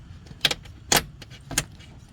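Three quick plastic snaps as a Jeep Compass 2018 daytime running light bulb is twisted into its socket, close and crisp over faint background hiss.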